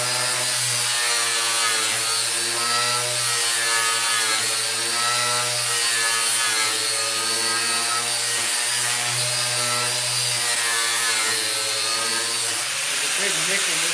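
A lawn mower blade is ground on an All American blade sharpener, a loud, sustained, humming grinding whine close by that holds steady and shifts near the end.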